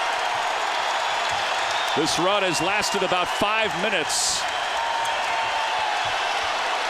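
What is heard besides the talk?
basketball arena crowd cheering during Creighton run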